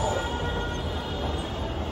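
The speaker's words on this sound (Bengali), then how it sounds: "মাত্র ট্রেন এসছে" A crowded train pulls into a busy station in Bangladesh, giving a steady, dense rumble of rail noise and wheels with crowd murmur beneath, continuous and moderately loud throughout.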